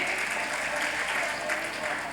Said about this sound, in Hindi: तो जोरदार तालियां हो जाए भाई